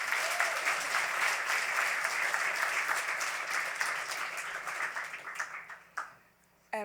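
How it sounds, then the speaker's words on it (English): Audience at a literary awards gala breaking into sustained applause, a dense wash of clapping that fades out over several seconds before a short burst at the end. "Let's give them a nice round of applause."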